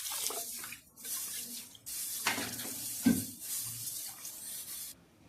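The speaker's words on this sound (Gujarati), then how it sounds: "તો આ રીતે હાથ વડે હલાવીને સારી રીતે ધોઈ નાખીશું" Hands swishing and rubbing moth beans in a bowl of water, in uneven bursts of splashing with short pauses between.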